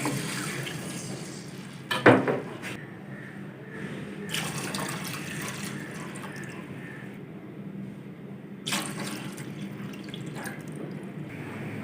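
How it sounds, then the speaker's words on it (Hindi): Jaggery water is poured into a cooking pot for sweet Punjabi rice, bringing a sharp knock and then bursts of splashing and trickling with quiet gaps between, close and moderately loud. "सबसे पहले गुड़ वाला पानी डालेंगे।"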